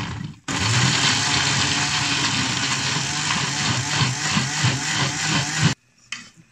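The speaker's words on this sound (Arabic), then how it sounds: "ونضربها في الخلاط." An electric kitchen blender whirs loudly and steadily, blending tomatoes with tomato paste and a little water. The motor runs for about five seconds and then cuts off abruptly.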